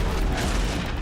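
A robot's blaze canister blowing up in Horizon Zero Dawn, a sustained roaring boom that stays loud and rumbling throughout with no voices.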